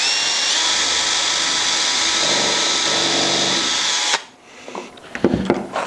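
A power drill drilling into wood runs loudly and steadily for about four seconds, then stops abruptly, leaving brief clicks and handling noises.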